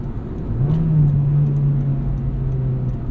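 A 2006 Acura RSX Type-S engine hums on a track, a steady mid-pitched drone that rises in pitch briefly as it accelerates, heard from inside the car.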